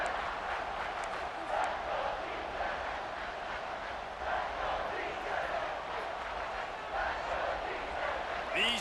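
A stadium crowd in EA Sports College Football 26 roars in a sustained, swelling wash of cheering that rises in waves, loud enough to force a false start, with a commentator talking over it.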